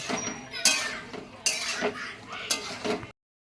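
Pea pods being stirred in a cooking pot, a spoon scraping and clinking against metal in several distinct strokes, close and fairly loud, before a sudden stop.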